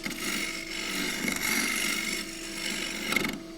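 A 3/4 inch round woodturning gouge cuts a small groove in wood spinning on a lathe, giving a steady close rasping scrape that runs continuously with slight swells.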